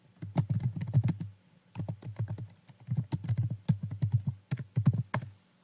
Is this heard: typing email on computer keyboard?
yes